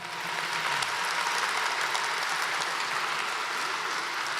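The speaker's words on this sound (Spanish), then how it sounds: "Denle otro aplauso fuerte al Señor" A church congregation claps loudly in a sustained, dense wash of applause that stays steady throughout, with no single voice standing out.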